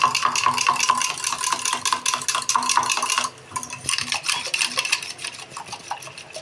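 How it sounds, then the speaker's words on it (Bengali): Eggs are beaten vigorously in a bowl for an egg rabri, giving a fast, steady clatter of utensil strokes against the bowl that pauses briefly partway through, then resumes slightly softer. "আমি ডিমটাকে ফাটাচ্ছি দেখুন কীভাবে"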